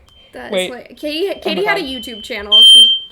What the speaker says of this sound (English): that was my fire alarm, so just disregard